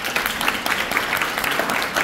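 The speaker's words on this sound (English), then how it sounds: "And that should be applauded first and foremost." A crowd applauds apprentices with dense, continuous clapping that stays fairly loud and even for the whole stretch, with no break and no speech over it.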